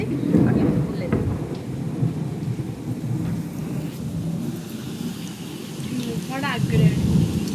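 Heavy rain pours down with rolling thunder rumbling underneath, a dense continuous roar, while a voice speaks faintly in the background.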